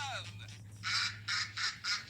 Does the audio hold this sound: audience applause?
no